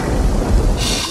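Deep thunder rumble as a sound effect for a cave scene where a hero turns into Thor, a loud continuous low roll with a burst of hiss like rain near the end.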